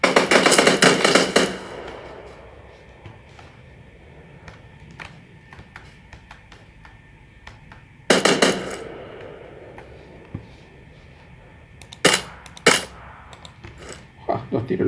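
Several sharp, loud gunshot cracks in PUBG Lite: a burst at the start, another around the middle, and two more near the end, with quieter background noise between.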